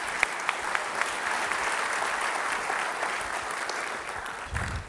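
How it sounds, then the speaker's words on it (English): An audience at a Long Beach development update event breaks into a big round of applause, dense, even clapping filling the room throughout, with a brief bump near the end. "So let's give them a big round of applause."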